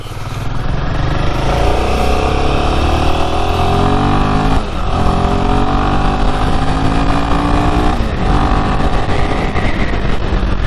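Royal Enfield Himalayan 450 motorcycle riding along on a long ride, a loud steady engine drone with shifting revs and wind noise throughout, no talking.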